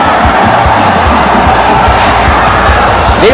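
Basketball arena crowd roaring and cheering after a Zamboanga win in an MPBL South Division finals game against Batangas City, a dense, loud, sustained wash of many voices.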